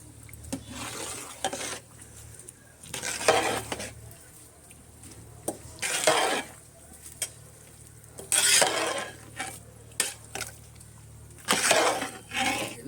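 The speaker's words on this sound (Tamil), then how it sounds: "நல்லா கிண்டி விட்டுக்கலாம்" A spoon scrapes and stirs rice and chickpeas for sundal in a pan, coming in several distinct bursts of clattering strokes with quiet gaps between them, close and moderately loud, with a faint background hiss.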